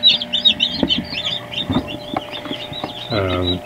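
Newly hatched Kaber chicks, still damp from the incubator, peep in quick high overlapping chirps close by, with a deeper fowl cluck or call and soft background voices mixed in.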